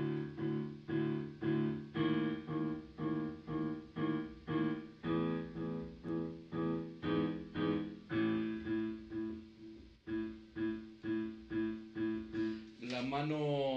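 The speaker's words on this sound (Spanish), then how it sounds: "O sea que suena así." A left-hand bass line from Für Elise is played on piano as steady repeated pulsing notes that shift in pitch over several bars, fairly quiet and without talking.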